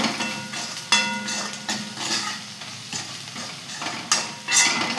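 Turmeric and salt being mixed in a pan for aloo paratha filling, with repeated scraping stirs and a light sizzle running underneath, several louder strokes standing out, no voices.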